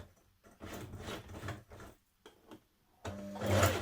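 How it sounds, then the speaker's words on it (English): A sewing machine stitches in the ditch along a skirt waistband seam, running in short uneven bursts with brief pauses between them, close and fairly quiet. "you're going to stitch in the stitch here"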